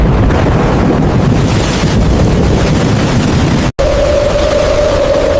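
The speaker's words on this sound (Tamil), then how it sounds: "திடீர்னு ஒரு நாள் வானம் இருட்டி பெரிய புயல் மழை வர ஆரம்பிச்சது." Loud, roaring storm wind buffets the microphone in a continuous rush, briefly cutting out before resuming with a steady tone underneath.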